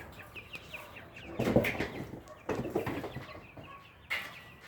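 Indio Gigante chickens, a rooster and hen, cluck in scattered bursts, fairly quiet, with soft rustling between calls and a louder squawk near the end.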